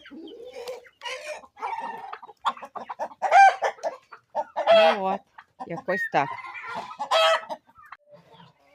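Startled chickens in their pen cluck and squawk loudly in a busy, agitated run of calls at close range, with a brief spoken remark near the end.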